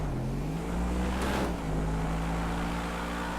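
A Bugatti SuperVeyron speeding in GTA 5, a loud continuous engine roar with a rising whine and a brief rushing swell partway through, no voices over it.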